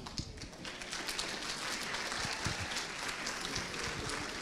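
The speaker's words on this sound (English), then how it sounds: "You're all clapping." An audience at a medical conference session applauding, a dense, steady wash of many hands clapping that fills the room throughout.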